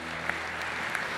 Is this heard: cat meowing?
no